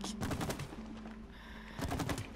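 Rapid bursts of gunfire in the video game It Takes Two, two clusters of quick repeated shots separated by a short lull, fairly faint.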